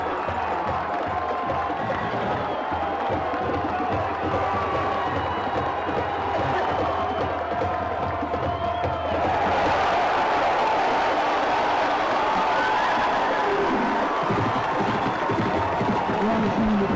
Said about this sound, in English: Let's take a listen to this crowd.